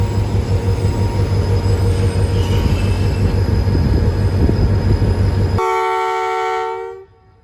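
A Karachi Circular Railway commuter train hauled by locomotive 4705 rumbles steadily past close by at Drigh Road station, wheels clattering, then a loud multi-tone horn blasts and the sound fades away.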